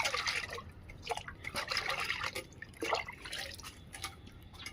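Liquid kitchen waste poured onto a marjoram plant splashes and trickles in irregular bursts of drips, close and fairly soft, with no talking.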